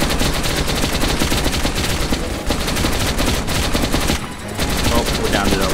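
Sustained automatic gunfire in the video game Metro Last Light, a dense, loud, continuous rattle of rapid shots with only two brief lulls, voices faintly mixed underneath.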